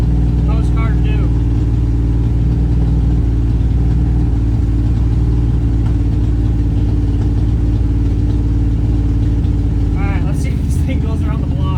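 A 1968 Ford Mustang left sitting for three decades idles while warming up, giving a loud, steady low engine rumble with a faint shift near the end and some chatter beneath.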